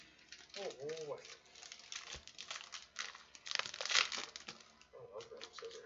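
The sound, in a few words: scissors cutting open a trading card pack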